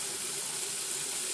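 Tap water poured into a pan holding chicken pieces for a spicy chicken dish makes a steady, close splashing rush with no pauses and no speech over it.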